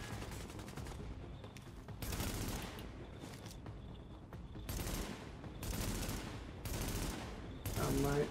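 Bursts of automatic gunfire during a boss fight in The Division, clustered volleys repeating every second or so with short quieter gaps between them, moderately loud.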